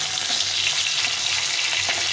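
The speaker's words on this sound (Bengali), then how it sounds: "মাছটা একদিকে ভাজা হয়ে গেছে" Fish frying in a pan, a steady dense sizzle of hot oil running continuously and close throughout, with no voices.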